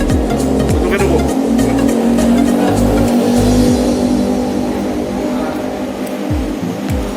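Steady car traffic roars past nearby under a toll-road overpass, engines rumbling and whooshing continuously, with individual vehicles sweeping by now and then.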